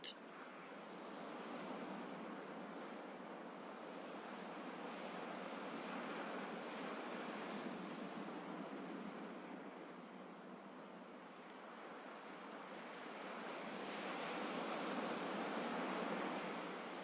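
Gentle sea waves wash in continuously with slow swells and ebbs, a soft broadband surf roar at a distance, quiet and unbroken, with no voices.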